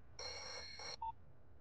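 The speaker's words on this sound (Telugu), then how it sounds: "ఫోన్ రింగ్ అవుతుందిరా" A telephone rings with one long electronic trill followed by a short, clear beep, moderately quiet against a faint low background.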